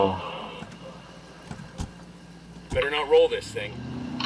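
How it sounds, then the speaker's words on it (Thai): A small car drives in Ghost Recon Wildlands, its steady low engine hum running throughout, with brief clunks and a voice rising near the end. "เราขับรถเล็กดีกว่า ขับรถเล็กขับง่ายดี ขับไปดีกว่า"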